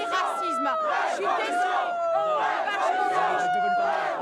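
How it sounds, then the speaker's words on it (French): A crowd at a protest boos and jeers a woman, with loud overlapping voices shouting and yelling in a continuous, agitated din. "Huée par la foule"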